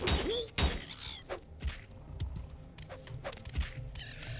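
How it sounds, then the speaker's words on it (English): Dull thumping impacts from the Morrowind video game land at irregular intervals, several soft low thuds mixed with light clattering over quiet game ambience. "I like how the thump sound is used for half of the sound effects in this game"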